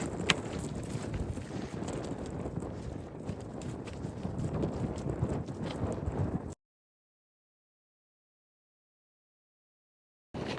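Strong wind on Franconia Ridge in the White Mountains, inside a cloud, buffets and roars against the microphone in a continuous rough rumble, then cuts off abruptly into silence.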